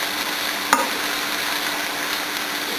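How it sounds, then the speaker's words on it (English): Onions frying in a pan for an eggplant parmesan sauce, a steady close sizzling hiss with one sharp utensil knock early on. "Now let these onions cook a little bit more."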